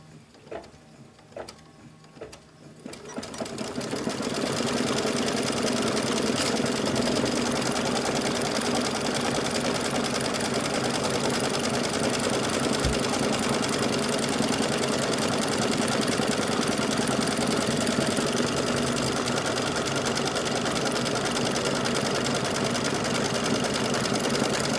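A sewing machine tacks down the lining of a small pincushion, with a steady, loud mechanical whirr and hum that starts after a few quiet seconds and runs on without a break.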